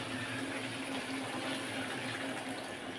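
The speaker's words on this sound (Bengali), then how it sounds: "গরম জল দিয়ে যেহেতু দেখতেই পাচ্ছেন সাথে সাথেই ফুটে যাচ্ছে" Hot water pouring into a pan of jackfruit curry and starting to boil at once, a steady, continuous hissing rush with no break, close and moderately quiet.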